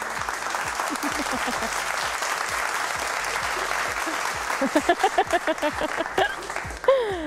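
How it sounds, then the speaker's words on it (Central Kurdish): An audience claps together at a children's show, a steady wash of applause with a run of sharp rhythmic hand claps toward the end. "چەپڵەی بێز بۆ من"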